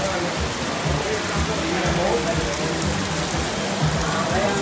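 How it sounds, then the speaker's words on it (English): Heavy rain pours down in Venice, a dense, loud, steady hiss of drops pattering on hard surfaces close by, with no pauses. "it started to pour down. Like, it was insane. There was so much rain."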